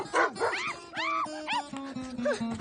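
A dog barks and yips in a Hindi film scene, several sharp close barks with whining rises in quick irregular succession, mixed with voices.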